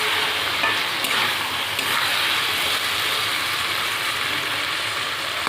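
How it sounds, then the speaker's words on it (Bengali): Potatoes and tomatoes softened in a covered pan, stirred while they cook, with a dense continuous sizzle and light scraping throughout. "একটু নাড়িয়ে নেব।"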